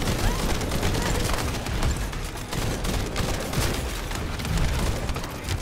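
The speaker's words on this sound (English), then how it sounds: "Wait, I'm getting shot from behind." Dense gunfire in The First Descendant shooter game: a loud, unbroken barrage of overlapping shots and blasts that fills the whole stretch without a pause.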